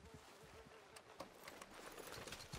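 Horse hooves in the Red Dead Redemption 2 video game, faint rhythmic clopping from a horse moving away, quiet and mixed with ambient game noise.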